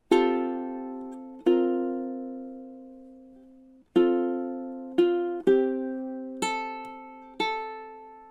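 Ukulele strumming chords from a song, with single ringing strums spaced irregularly and left to decay, then quicker pairs of strums near the end; clean and close with no voices.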